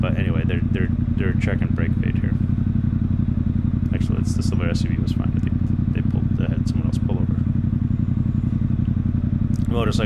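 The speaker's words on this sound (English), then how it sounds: "Engine braking goes a long way for bikes." A Ducati Diavel with a full Termignoni exhaust engine-brakes downhill on Pikes Peak in Colorado, a steady deep burbling exhaust drone that runs close and constant throughout, while people talk over it.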